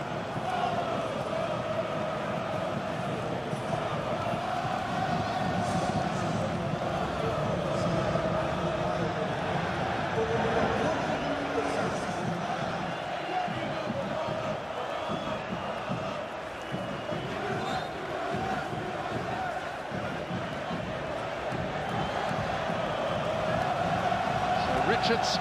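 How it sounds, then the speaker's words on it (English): Dense, steady roar of a large stadium crowd applauding and cheering during a USA vs Mexico World Cup qualifier as a substituted player leaves, a continuous wash of claps and voices with no letup, while a commentator talks over it. "Richards for Ware, who is getting a rousing round of applause"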